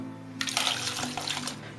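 Water splashes into a bowl of ice cubes in a home kitchen, a short close pour lasting about a second, with no talking over it.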